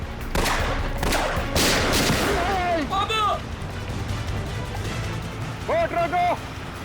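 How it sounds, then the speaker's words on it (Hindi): Gunfire in a TV crime drama scene: a burst of loud, rapid shots opens the scene, then shouting voices break in over the fading noise. "फायर!"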